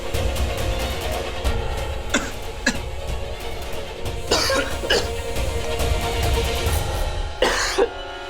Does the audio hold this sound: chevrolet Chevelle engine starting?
no